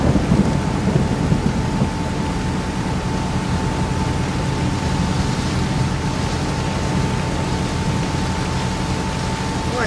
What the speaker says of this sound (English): Quite heavy rain, the sun shower.